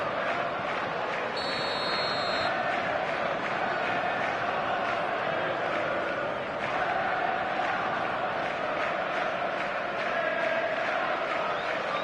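A dense stadium crowd roars and chants at a football match in a video game, a loud unbroken wash of massed voices throughout, with a brief chime early on.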